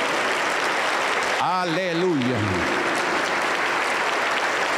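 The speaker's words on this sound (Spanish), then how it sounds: "Aplauso para el Señor Jesús." Applause fills a Pentecostal church service in Huancayo, steady crowd clapping throughout while a voice sings out a drawn-out exclamation over it partway through.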